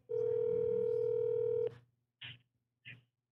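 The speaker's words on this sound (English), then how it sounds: "So I had a follow-up question to the phone call you just had with Brian." A steady telephone dial tone sounds alone for about a second and a half while a call is being placed, then cuts off, followed by two short, separate dialing beeps.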